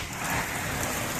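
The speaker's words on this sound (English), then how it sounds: "I guess as you can see, it's a lot of rain." Heavy rain pours steadily outside a shop on a hillside during a flood, a dense, continuous broadband hiss of downpour with no voices, loud and close throughout.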